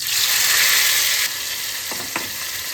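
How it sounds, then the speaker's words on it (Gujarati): Cumin seeds dropped into hot oil for a tempering; a loud, bright close sizzle that eases after about a second into a gentler steady fry, with two quick clinks near the end. "આપણું આ તેલ ગરમ થઈ ગયું છે. આ છે જીરું."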